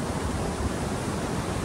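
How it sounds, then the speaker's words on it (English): A waterfall roars at its base in the Boundary Waters wilderness, a dense, steady wash of loud broadband rushing with no breaks. "I'm just standing at the base of the falls. You can see back there where the water flows,"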